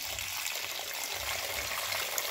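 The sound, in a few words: pouring off the water from cooked lentils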